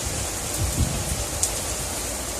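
Rain falling outdoors as a storm builds under a tornado warning in St. Charles County, a steady, soft broadband hiss with a couple of faint low thumps and no speech.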